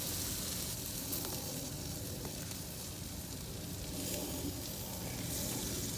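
Shrimp and corn cooking over a grill give a constant dense sizzle and hiss, faint and even with no distinct pops, no voices.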